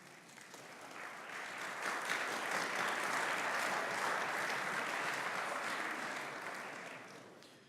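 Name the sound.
audience applause for students at chapel talk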